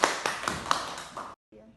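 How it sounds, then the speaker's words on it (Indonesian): A short burst of clapping for three speakers at an Indonesian podcast session, a handful of sharp claps up front thinning out before stopping abruptly, with a faint murmur after. "Kita berikan aplaus kepada ketiga pemateri kita pada saat ini."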